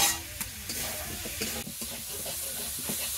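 Potatoes tossed with cooked-down spice paste in an oily pan for a potato, onion and tomato curry, a continuous sizzle with repeated stirring scrapes and knocks, close up and alone.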